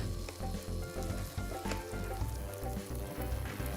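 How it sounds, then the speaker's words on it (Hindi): Ginger garlic paste frying in a hot pan, a loud steady sizzle with crackling spatters and some stirring, close and uninterrupted, no voices. "अब इसको भूनेंगे कब तक, जब तक कि अदरक लहसुन पेस्ट का कच्चापन ना मर जाए।"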